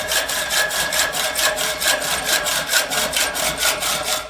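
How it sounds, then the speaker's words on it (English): A hand saw cuts through a threaded bolt in steady back-and-forth strokes, a rhythmic rasping of roughly two strokes per second, close and loud with no talking. "Go ahead and cut this bolt off."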